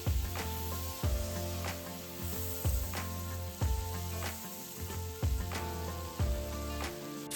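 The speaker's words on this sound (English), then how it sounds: "I'm stirring it around with a kitchen spoon to get it moving in all that leftover oil and butter" A kitchen spoon stirs a pan on the stovetop through sizzling leftover oil and butter from seared pork, a constant close frying hiss broken by regular scraping strokes roughly every second.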